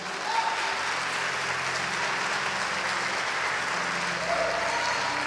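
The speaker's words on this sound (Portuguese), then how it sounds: "Quantos podem aplaudir o Senhor Jesus?" A church congregation applauds during a sermon, a steady wash of many hands clapping throughout at even loudness, with faint voices beneath it.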